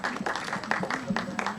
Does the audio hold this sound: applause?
yes